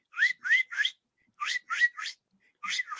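A person whistles a sharp, high chirping pattern in quick bursts of three, repeated three times with short pauses, fairly soft and close, imitating a high-pitched chirp.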